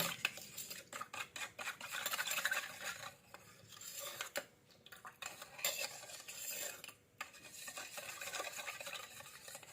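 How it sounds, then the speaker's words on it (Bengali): A spoon stirs and mashes a spice paste made with turmeric and a little water in a small bowl, giving continuous close scraping and clinking for the whole stretch with brief pauses. "এটার ভিতরে একটু জল দিয়ে দেবো তারপরে একটা চামচের দ্বারায় ভালো করে মশলাটা ফাটিয়ে নেব"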